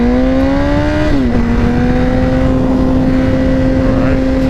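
Motorcycle engine on a ride along a winding road, a steady loud drone that dips in pitch once as the revs drop and then holds an even tone with wind rush underneath.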